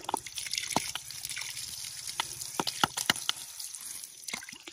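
Water trickles and drips from a garden hose as air still sputters out, with irregular close splashes and gurgles over a steady low flow and no talking.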